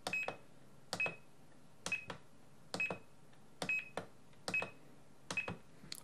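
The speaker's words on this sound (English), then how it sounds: "here I've got the logical switches 1, 2 and 3 playing different beeps." An OpenTX radio transmitter sounds short electronic beeps as logical switches 1, 2 and 3 are triggered, a faint two-note pattern that repeats about seven times at a steady, nearly one-second pace with quiet clicks between.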